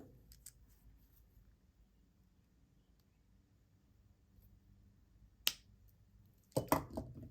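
Wire cutters snip off excess wire while wrapping a Tahitian pearl tin cup necklace, giving one sharp, close click after a long quiet stretch, followed by faint handling noises.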